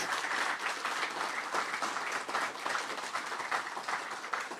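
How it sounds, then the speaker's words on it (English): An audience at Fippy Fest 2024 claps and applauds the EverQuest development team, a dense, even wash of many hands that holds steady throughout without voices. "Round of applause for the development team."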